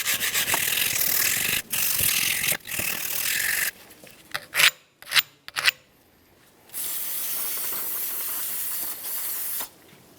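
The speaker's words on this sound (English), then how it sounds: "Use a wire brush for this." Wire brush scrubs rust off a 2003-2007 Honda Accord front steering knuckle in steady, hissing strokes, pausing for a few short scratchy bursts before resuming the close, continuous scrubbing.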